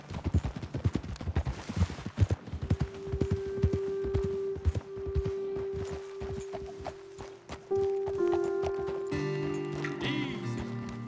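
Horse hooves clip-clop in a steady trotting rhythm in the video game Red Dead Redemption 2, then slow and fade as a sustained musical tone rises underneath.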